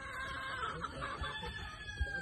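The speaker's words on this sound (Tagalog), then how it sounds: "mga manok" Chickens clucking in a rural yard, several short nearby clucks over soft background noise, with one sharper squawk near the end and no talking.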